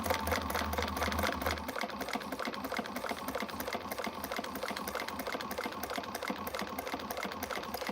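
A sewing machine stitches quilting fabric for an Irene pattern by Shamballa, a steady, fast, close mechanical whir-and-tick that runs without a break for several seconds.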